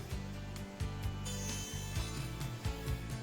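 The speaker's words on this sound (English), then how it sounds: "now I'm going to cut the lower shoulder on the tenon." A table saw fitted with a dado head cuts the lower shoulder of a wooden tenon, giving a steady, close, humming whir with faint rasping as the blade works, and no speech.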